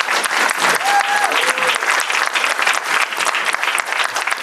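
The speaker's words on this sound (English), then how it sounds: "Again, a round of applause." A crowd at a school board meeting in Visalia claps steadily throughout, a dense, even round of applause close by.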